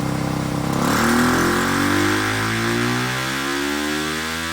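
Yamaha YZ300FX dirt bike with a 304cc Athena big bore kit runs on a dyno at full throttle, its engine revving loud and close in a steady climbing pitch with clear rising harmonics.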